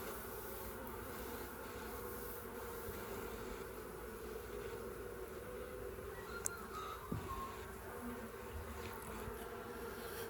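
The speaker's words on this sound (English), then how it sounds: "There's a few robber bees hanging around this table now" Honey bees buzzing around an open mini nuc hive on a table, with a few robber bees among them, a faint steady hum with occasional light clicks and no voices.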